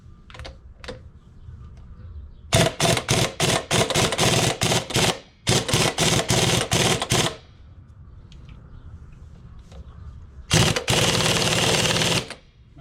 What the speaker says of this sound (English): I usually just take an impact and bust this nut loose